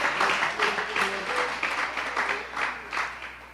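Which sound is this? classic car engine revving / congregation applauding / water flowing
congregation applauding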